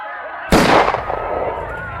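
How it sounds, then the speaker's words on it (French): A single sharp gunshot rings out in a documentary reconstruction of the shooting of Pope John Paul II, a loud sudden crack followed by a long echoing decay over a low background. "Tchelik tire à son tour."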